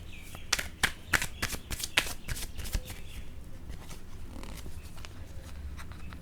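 Tarot cards being shuffled and drawn, a rapid series of crisp riffling flicks early on that slow into softer sliding and tapping as cards are laid out, close and fairly quiet with no talk.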